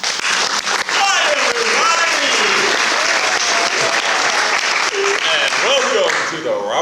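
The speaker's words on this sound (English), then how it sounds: "Let's have a big round of applause for Don Pardo!" Loud, full audience applause for a show host at a staged variety show, a continuous roar of clapping with whoops and cheering voices throughout, fading slightly at the very end.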